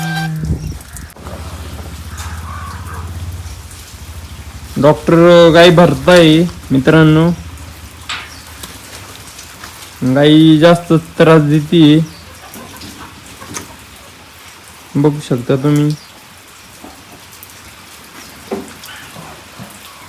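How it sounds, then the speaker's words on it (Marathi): Heavy rain falling on a farm during monsoon weather, a steady hiss of drops under someone talking in short bursts, with the downpour continuing between his phrases. "पाऊस चालू आहे, बघू शकता मित्रांनो तुम्ही."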